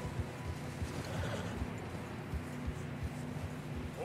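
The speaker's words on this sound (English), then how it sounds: "Horses are getting tired." Horses walk through snow in Red Dead Redemption 2, their hooves making a steady, soft clip-clop rhythm under a constant wind-like hiss of ambience.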